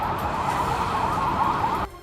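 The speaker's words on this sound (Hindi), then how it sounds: "पाकिस्तानी सेना की गाड़ियां इमरजेंसी सायरन बजाते हुए गुजरती दिखी" Emergency sirens from Pakistani army vehicles passing by: a loud, wavering wail that continues steadily and then cuts off abruptly near the end, with low road rumble underneath.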